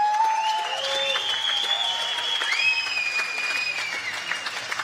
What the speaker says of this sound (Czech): která si určitě zaslouží váš potlesk.